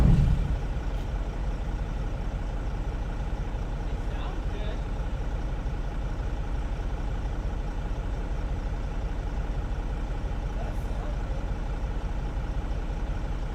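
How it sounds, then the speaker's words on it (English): A car engine, freshly worked on that day, runs at a steady idle, giving a continuous low rumble that stays even and close throughout with no revving. "I just want to listen to my engine for a second"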